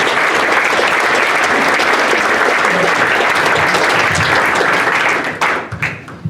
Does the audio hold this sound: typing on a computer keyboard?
no